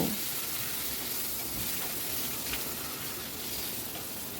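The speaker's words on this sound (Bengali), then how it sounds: "এটাকে লো ফ্লেমে একটু ভাজা ভাজা মতো করে নেব।" Curry leaves, dry chillies and spices fry in mustard oil over a low flame, producing a faint, steady sizzle and soft hiss that continues evenly with no voices.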